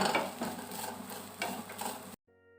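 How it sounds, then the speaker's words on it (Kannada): Grated coconut frying in a pan for Tulunadu-style dry chicken sukka, a steady close sizzle with stirring scrapes for about two seconds before cutting to near silence. "ಈಗ ಅದನ್ನು ಚೆನ್ನಾಗಿ ಫ್ರೈ ಮಾಡಿಕೊಡ್ಬೇಕು, ಒಳ್ಳೆ ರೀತಿಯಲ್ಲಿ ಫ್ರೈ ಆಗಬೇಕಿದು."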